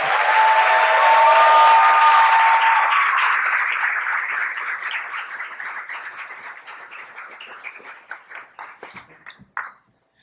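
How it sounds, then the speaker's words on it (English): An audience at an awards ceremony applauds loudly and steadily, then the clapping thins into scattered claps and fades out. "Give him a round of applause."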